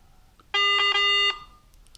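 A single mid-pitched metal detector tone with strong harmonics lasts under a second, slightly pulsing, close and loud against a quiet background.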